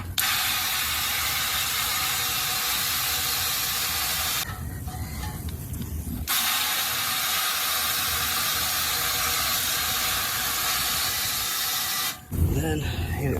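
A steady hose water spray hisses loudly while rinsing the coil of a package unit during preventative maintenance, cutting out briefly twice before resuming.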